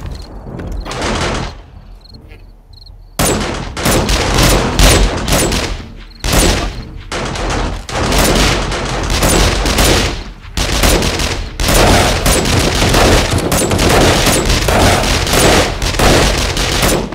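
Rapid bursts of automated turret gunfire during a base defense in the co-op survival game 7 Days to Die, loud and close, firing in repeated volleys with brief gaps, no talk.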